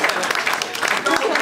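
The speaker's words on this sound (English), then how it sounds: "We want another round of applause, please." Brief burst of applause from wedding guests, scattered clapping heard close and fairly loud over a second and a half, with a voice speaking alongside.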